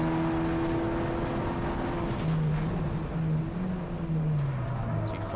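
Ford Puma race car engine running on the Snetterton circuit during a Clubsport Trophy race: a sustained, fairly loud engine drone whose pitch sweeps downward as the car passes, steady throughout with no speech.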